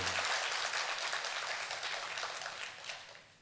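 Congregation clapping together during a church worship service, a dense steady wash of applause that starts full and gradually thins and fades over a few seconds.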